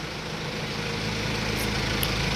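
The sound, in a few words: Bullet motorcycle engine running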